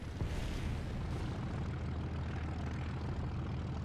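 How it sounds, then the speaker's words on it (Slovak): A warplane in the tank-combat game War Thunder, the aircraft that knocked out the player's tank, gives off a steady, loud engine drone that holds evenly throughout with no pauses. "Lietadlo nás mňa dostalo."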